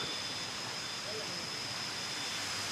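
A small waterfall near Erawan Falls in Kanchanaburi, Thailand, gives a steady, broadband rush of falling water that stays even and unbroken throughout.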